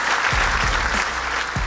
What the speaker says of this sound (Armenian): Տոման եւս մեկ անգամ բարձր ծափարենք